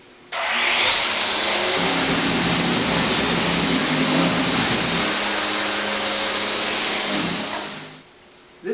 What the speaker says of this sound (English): rough up the surface of this medium density fiberboard with a little 120 grit sandpaper